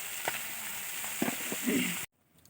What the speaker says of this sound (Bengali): এই যে এখানে একবার চুনো মাছ ভেজে রেখেছি আর এই একবার ভাজছি